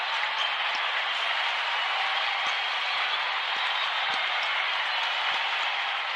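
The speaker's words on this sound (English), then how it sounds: "Listen to this Husky crowd." A Huskies home crowd at a Boston University men's basketball game cheers and applauds in a steady, dense roar after a steal and layup, with a few sharp claps and whistles poking through across the whole stretch.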